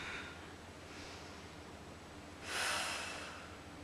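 Steady exhale and inhale breathing during a balance-focused exercise class, soft and close with a louder, breathy rush of air near the end.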